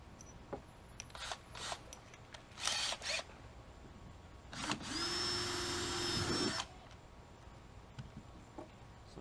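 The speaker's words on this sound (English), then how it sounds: "I'm going to take a smaller diameter drill bit and drill a pilot" A power drill fitted with a small bit bores a pilot hole into a kayak hull, giving one steady whirring burst of about two seconds mid-clip, with scattered clicks and handling knocks before and after.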